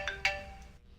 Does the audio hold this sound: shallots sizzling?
no